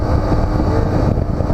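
A BMW R1200GS motorcycle engine runs hard during a test ride, a loud, rough, low rumble blended with heavy wind buffeting on the microphone, continuous and close, with no one speaking.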